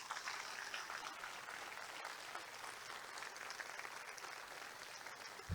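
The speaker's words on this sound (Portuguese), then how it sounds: "Dá um aplauso a Jesus." Steady applause from a church congregation during a Sunday service, evenly sustained and moderately distant, with no one speaking.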